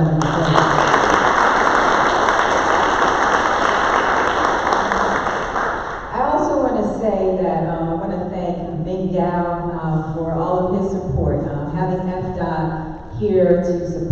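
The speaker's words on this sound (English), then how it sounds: "So let's give them another round of applause" A round of applause for a board of directors, dense clapping for about six seconds before it fades out under a speaker who begins talking over the tail.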